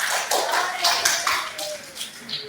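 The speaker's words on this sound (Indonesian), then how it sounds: "Tepuk tangan buat kelompok 5." Classroom applause for a student group: a brief burst of clapping hands from students, somewhat scattered and close, with children's voices chattering underneath.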